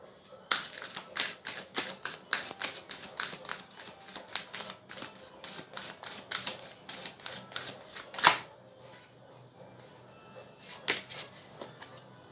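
Tarot cards shuffled and flicked in quick rapid succession, a crisp riffling run of close taps for several seconds, one sharper snap, then quieter handling with faint talk underneath.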